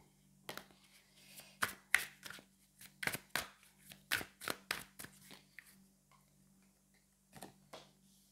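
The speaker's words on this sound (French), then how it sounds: "Allez, on va aller prendre 3 cartes." Tarot cards are shuffled and drawn by hand, with a quiet series of soft, close flicks and slaps at an uneven rhythm, followed by a brief pause and a few final taps.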